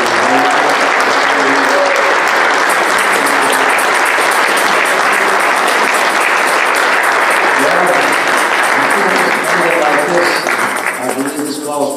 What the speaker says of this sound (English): Let's give him a great big clap.